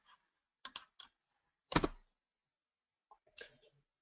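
Sparse computer keyboard clicks while entering equations into modeling software, a few isolated sharp taps and short clusters separated by silence, close and quiet.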